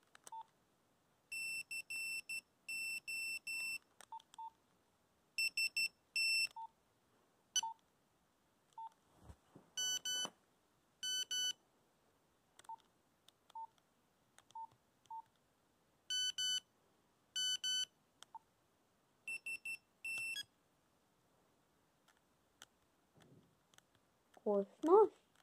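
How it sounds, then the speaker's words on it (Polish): A Nokia 3310 mobile phone plays short, bright electronic beep sequences of its SMS alert tone, repeated in separate bursts with quiet gaps, and a voice is heard briefly near the end. "To ringtone SMS-ów."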